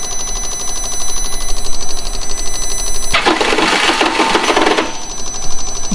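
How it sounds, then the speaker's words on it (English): An old Honda Goldwing motorcycle's starter cranks in a dense, rapid churning burst lasting about two seconds midway, loud over a steady background hum, with no voices. "Starter sounds great."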